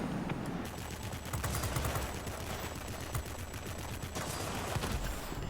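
Aircraft machine guns firing in the World of Warplanes video game, a dense, continuous rattling burst of rapid shots over a roaring engine drone, loud and sustained throughout.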